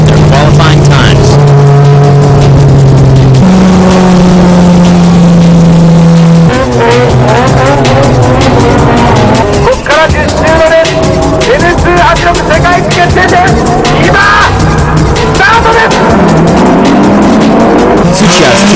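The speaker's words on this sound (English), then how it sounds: "Tsuchiya's TRD Hachiroku is off to a good start" Race cars, including a Toyota TRD Hachiroku, launch at the start of a final race: loud, close engines rev and climb in pitch with tire squeal and skidding, and voices can be heard among the engine noise.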